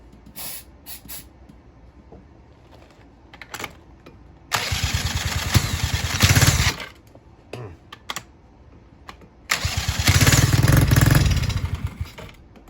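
A chopper motorcycle engine fires up twice in loud, close bursts, each running a couple of seconds before cutting out and stalling, with quiet clicking and handling sounds in between.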